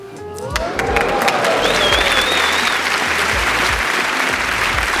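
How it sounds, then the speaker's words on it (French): Audience applause at a gala show in Montreux, a sustained, even wash of clapping from a large crowd with some cheering and a few voices at the start. "Vous avez fini par applaudir parce qu'il y en avait d'autres qui applaudissaient"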